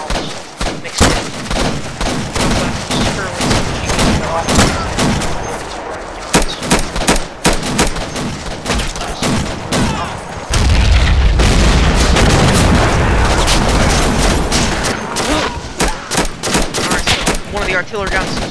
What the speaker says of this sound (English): One of the artillery guns seems to have fired